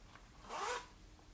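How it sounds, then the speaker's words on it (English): A makeup bag with a tassel and a lined interior is zipped shut in one quick, close zipper pull of about a third of a second, surrounded by quiet. "So when you zipper it up"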